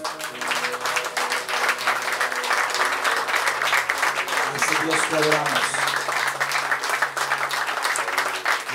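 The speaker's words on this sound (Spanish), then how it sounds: "Y te damos en esta mañana la mejor ofrenda de aplausos a ti, oh Rey." A church congregation applauds during a Sunday morning worship service, steady clapping filling the room under a voice speaking over it and sustained tones from music.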